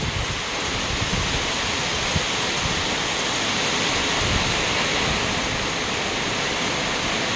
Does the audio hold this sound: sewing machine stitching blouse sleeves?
no